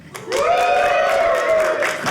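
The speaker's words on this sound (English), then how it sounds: "look at that strong clap" A comedy-show audience of married men claps and cheers, a loud, sustained burst of applause with whooping voices rising over the crowd.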